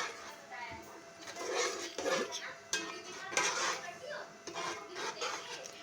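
A spoon clatters and scrapes against a metal pot as yogurt is stirred quickly into beef biryani, with irregular knocks and rubbing sounds at close range while someone talks over the stirring.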